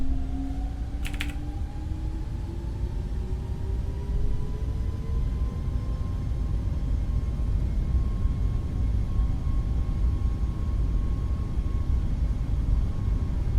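A Boeing 737 Max modelled by iFly in Microsoft Flight Simulator rolls down the runway for takeoff, a steady loud engine roar with rising tonal whine, broadband rumble throughout and a brief click near the start.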